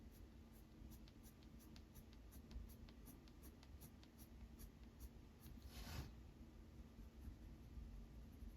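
Derwent Procolour pencils scratch faintly and steadily across paper during colouring, a soft continuous rubbing with light periodic ticks and no speech.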